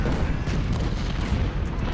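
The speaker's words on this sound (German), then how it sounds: "Oh, das sind nur Kanonen." Dense, rumbling cannon artillery fire in Ultimate General: Civil War during the battle of Stones River, a continuous low roar of overlapping booms without clear gaps between shots.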